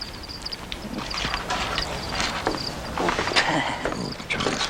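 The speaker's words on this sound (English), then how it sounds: "you feed them crickets, and like for a couple of days you get to listen to the crickets sound like you're in the country" Crickets kept as spider food chirp indoors in steady, faint high trills, mixed with rustling and handling noise nearby.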